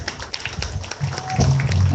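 Brief applause from spectators at a county fair sheep and goat show after a medium-weight market lamb class, a quick patter of claps that grows fuller and louder near the end.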